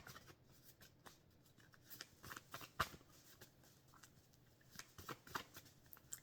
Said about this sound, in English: I'm going to pull some more cards.